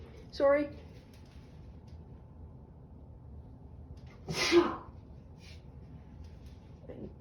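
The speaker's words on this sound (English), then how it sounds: "Oh, I'm going to sneeze." Two sharp sneezes a few seconds apart, close and loud, with faint breathing noises in between and a quieter sound at the end.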